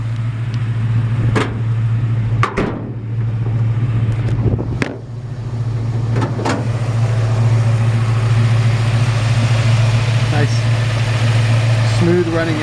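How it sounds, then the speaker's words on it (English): 1959 Chevrolet Apache truck engine idling smoothly on a cold Georgia day, a steady low droning hum held throughout, close and loud, with a few sharp clicks and clunks and someone talking briefly over it. "nice smooth running engine."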